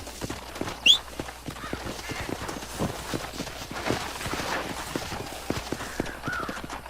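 Horse hooves clip-clop in a steady galloping rhythm in the video game Red Dead Redemption, close and continuous, with a brief whinny near the start and ambient street background.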